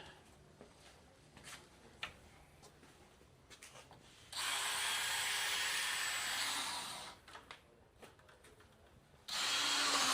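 Power drill boring holes in a block during a house build, two sustained bursts of whirring drilling at moderate distance, with quieter handling knocks and shuffling between them.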